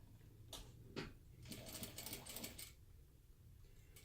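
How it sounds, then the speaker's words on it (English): A sewing machine stitching a crossbody bag panel along an earlier stitching line: a few brief starts followed by a short run of rapid mechanical clatter, close but quiet, then it stops, with no talking. "I'm actually going to sew with the same side up and just sew right over top the stitching line, the previous stitching"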